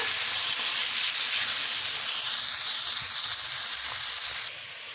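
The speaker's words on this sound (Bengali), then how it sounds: "পেঁয়াজ রসুনগুলোকে ভালোভাবে ভেজে নেব" Onion and garlic fry in a pan for Bengali ghugni, a steady, dense sizzle that stays loud and close throughout, dropping slightly in the last half second, with no talking.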